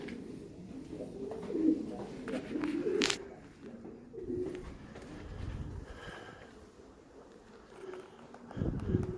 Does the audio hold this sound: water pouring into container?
no